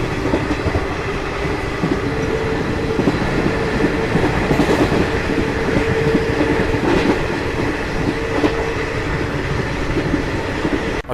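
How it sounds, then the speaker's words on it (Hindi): ICF passenger coaches of the Yuva Express roll at 130 km/h, with a steady loud rumble of wheels on rail and faint clickety-clack joints running continuously throughout. "फिलहाल हमारी ट्रेन 130 किलोमीटर पर आवर की रफ्तार में चल रही है"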